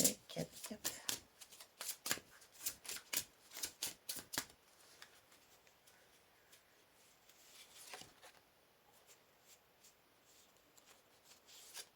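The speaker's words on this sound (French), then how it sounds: "Je vais tirer 4 cartes." Tarot cards are shuffled and drawn in a quick burst of crisp riffling and slapping for about four seconds, then a few soft, scattered card slides follow over near silence.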